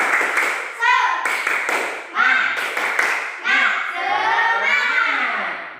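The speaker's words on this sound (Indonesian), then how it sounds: "Sekarang kita akan tepuk semangat terlebih dahulu. Tepuk semangat." Schoolchildren in a classroom perform the rhythmic tepuk semangat chant, voices calling out in unison with sharp bursts of clapping in short patterned groups, fairly close and lively.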